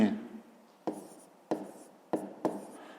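Handwriting on paper comes through as a few sharp, close pen taps, each followed by a brief scratch, spaced at roughly even intervals, with faint room noise at the start.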